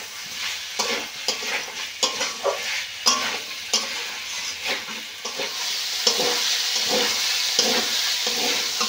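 Chana dal and potatoes with salt are stir-fried in a pan, a spatula scraping in repeated rhythmic strokes over a constant sizzle that grows steadier and louder toward the end, with no speech.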